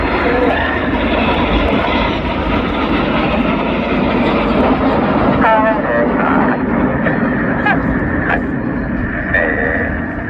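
Red Arrows display jets pass overhead at the 2025 Blackpool airshow in a wide formation, trailing smoke, producing a loud, continuous broadband roar that swells and holds steady, with a voice talking over it.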